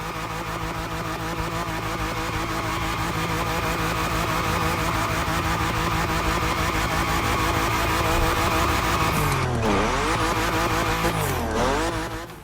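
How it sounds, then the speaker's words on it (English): Car tires squealing through a held burnout and spinning donuts in The Crew Motorfest racing game, a steady loud engine roar and tire screech with sweeping pitch shifts near the end. "The only way to do this is to hold a burnout and rotate like in GTA titles."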